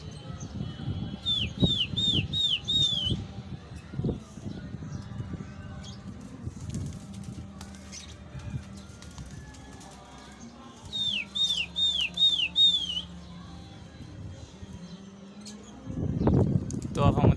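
A flock of pigeons flies from a rooftop in India, with bursts of wing flapping and repeated high chirping calls in two clusters, under steady conversation from people nearby.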